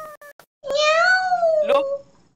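A cat gives one long, drawn-out meow that rises and falls, loud and close, after a few short clicks. People are chatting in a casual group gaming stream.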